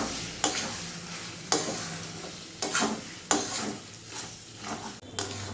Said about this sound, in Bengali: এবার আমি ভালো করে মিশিয়ে নেবো মশলার সাথে।